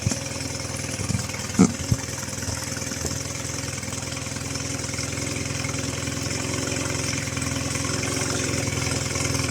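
A Mercury 9.9 outboard engine runs steadily with its fuel line unplugged while the carburettor drains, a close, continuous idling drone with a brief knock near the start and no talk.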